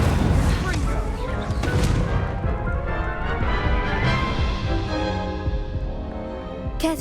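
Hogwarts Legacy video game combat with the Incendio fire spell cast amid dense, continuous blasts, booms and crackling impacts, loud and unbroken throughout, with a sharp burst near the end.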